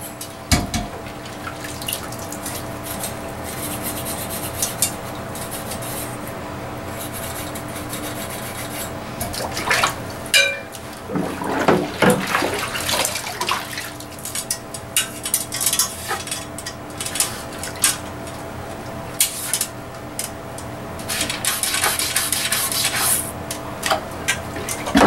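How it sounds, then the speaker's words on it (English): Water runs through a trumpet being rinsed during a deep clean, a continuous watery splashing and rubbing with bursts of gurgling in the middle and again near the end, close and fairly loud. "Now I would like to just kind of run some water through."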